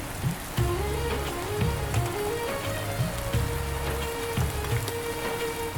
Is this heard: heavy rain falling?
yes